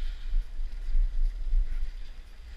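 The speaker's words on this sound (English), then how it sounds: "Definitely a lot colder on this side of the hill. The wind's hitting this side" Wind buffeting a microphone on a ski hill, a steady low rumbling roar with gusty swells that rise and fall, heard alone with no voices.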